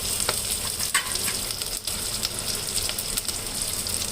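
Mint, fenugreek leaves and ginger-garlic paste fry in hot oil, a loud, close, continuous sizzle with light stirring scrapes running through it.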